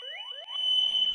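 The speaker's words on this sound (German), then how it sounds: "Nach dem Alarm off piepst dann nur mehr der Rauchmelder, der wirklich aktiviert wurde" An X-Sense smoke detector alarm sounds a rising electronic sweep that settles into a loud, steady piercing tone, heard alone.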